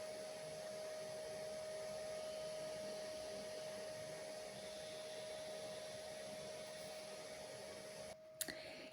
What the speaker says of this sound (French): Je dis ça par rapport à l'aspirateur mais qui m'a agacée profondément.